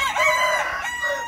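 A bantam rooster crows loudly and close by in the morning, one sustained strained call filling the whole moment with no voices.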